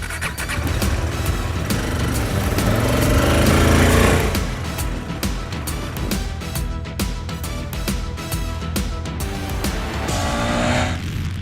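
KTM 250 Adventure motorcycle with a 250 cc single-cylinder engine, riding: loud, continuous engine drone with wind rush, swelling as it revs around the middle, then steady buzzing cruise with rhythmic pulses.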